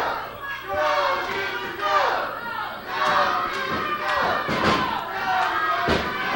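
A pro wrestling crowd at a 1998 televised show cheers for both young wrestlers, with split chants and shouts rising in waves over steady arena noise. Commentators talk throughout, with occasional thuds from the ring.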